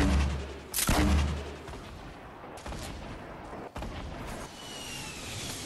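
Gunfire from a weapon in the Fortnite video game, a few sharp loud shots spaced out over several seconds, the first the heaviest, against a hissing game background.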